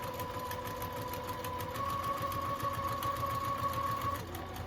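A sewing machine steadily stitches fabric for a reusable mason jar cover, giving a continuous close mechanical whir with a fast regular rhythm for several seconds and no talking.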